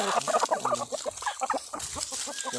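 A young Thai fighting rooster clucks close by, quick repeated choppy clucks and short fowl calls in an uneven run with some farmyard background.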